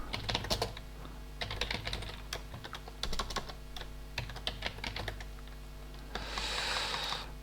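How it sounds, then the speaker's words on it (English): Hasty typing on a computer keyboard, with rapid close clicks in uneven bursts and a brief breathy sound near the end, no speech. "Hastily typing"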